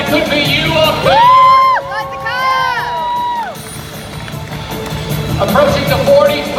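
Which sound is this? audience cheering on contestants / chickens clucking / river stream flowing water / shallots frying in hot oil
audience cheering on contestants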